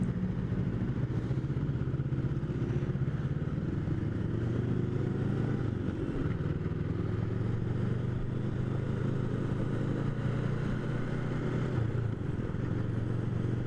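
A Honda Rebel 500 motorcycle sits idling in stoplight traffic, its steady low engine rumble running continuously and loud throughout, with faint clatter and surrounding traffic noise.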